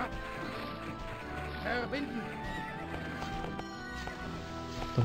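Horse hooves clip-clop in the medieval strategy game Knights & Merchants, with whinnies and neighs among soft game sounds, all fairly faint under someone talking.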